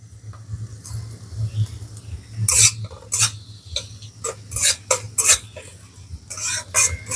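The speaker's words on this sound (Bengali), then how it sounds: "আদা আর রসুনটাকে দিয়ে গাজরের সাথে খুব ভালো করে একটু ভেজে নেব।" Chopped garlic and ginger fry with carrots in a pan for a homemade wheat-flour pasta, with a low steady sizzle under repeated sharp spoon scrapes and clinks against the pan.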